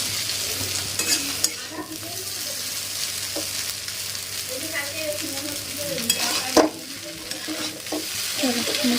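Chow mein is stir-fried in a pan: a close, continuous sizzle with repeated scraping and tossing strokes of the utensil, and no talking.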